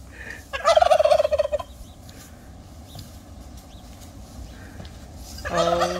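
Pasture turkeys let out a loud chorus of gobbles for about a second, followed by several seconds of quiet outdoor ambience before a second gobbling burst starts.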